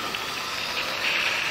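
A car engine idles on the Splügen mountain pass, giving a steady broadband hum with a faint hiss that rises slightly toward the end, heard close with no speech.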